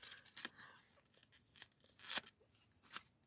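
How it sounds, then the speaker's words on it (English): A sticker is slowly peeled from its paper backing, very quiet close tearing and crinkling with a few sharper rips spaced through the stretch, and no talking. "I'm going to carefully peel that off the paper and hopefully not damage it."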